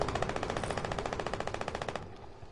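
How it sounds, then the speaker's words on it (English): Rapid automatic gunfire from the Fortnite video game, a steady stream of closely spaced shots lasting about two seconds and then cutting off abruptly, fairly loud with no talk over it. "What is that they're shooting?"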